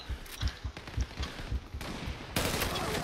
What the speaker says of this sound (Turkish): Lan biri sıkıyor burada.